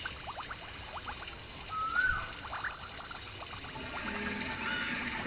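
Running water from hand washing in a Toca Boca video game, a steady hissing trickle with small clicks and a brief chirp, continuous and fairly close throughout.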